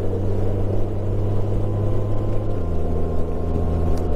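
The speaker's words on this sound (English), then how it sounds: "I know that the wind noise is going to be horrible" Riding a motorcycle with the windshield partly raised, a loud, constant low engine drone with steady wind rush over it, close and continuous, no talking.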